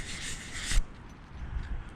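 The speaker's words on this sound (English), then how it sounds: "Wipe this lens again." A cloth rubs briskly across the lens of a lamp on a 1963 Chevy Impala SS convertible, a close, soft swishing for under a second before it fades to a quiet background.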